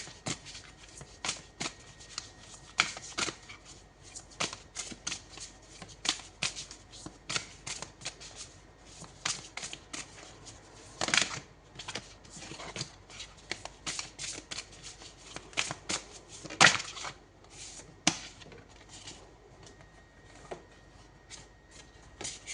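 A tarot deck is shuffled by hand at close range, with a long run of soft riffling and sliding card sounds broken by sharper snaps and taps, fairly even in loudness throughout.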